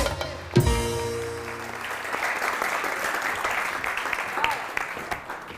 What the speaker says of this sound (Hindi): शायर भाई के लिए बहुत सारी तालियां होनी चाहिए।